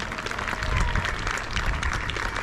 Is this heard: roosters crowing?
no